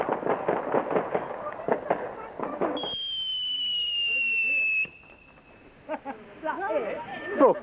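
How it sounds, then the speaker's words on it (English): Fireworks at a bonfire night party in the woods: sharp pops and crackles at first, then a long rising whistle and scattered bangs, with people talking and shouting close by. "just fireworks"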